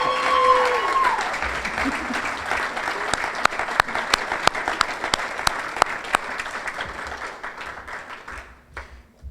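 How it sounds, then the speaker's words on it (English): A crowd at a college sports hall of fame ceremony applauds and cheers for an award recipient, sustained clapping with a few sharp louder claps standing out, gradually tapering off toward the end. "Definitely the loudest cheering."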